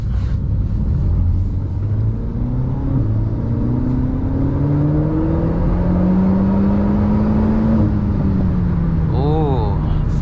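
An Alpine A110 sports car engine pulling steadily under acceleration, a rising drone climbing in pitch through the gears from inside the cabin, with a steady road rumble beneath and a voice speaking over it.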